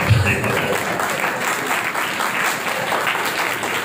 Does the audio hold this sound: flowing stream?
no